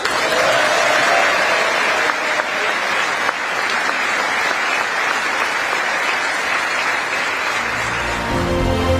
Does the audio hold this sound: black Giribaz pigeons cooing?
no